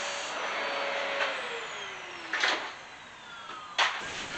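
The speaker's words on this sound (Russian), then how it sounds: "Пылесос мощный." A powerful household vacuum cleaner runs close by with a steady whining hiss, its pitch shifting as it moves, broken by a couple of brief louder suction bursts; no voices.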